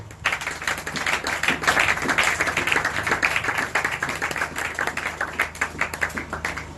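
A church congregation claps together in sustained, rhythmic applause, a dense, steady patter of many hands close by, swelling and continuing throughout.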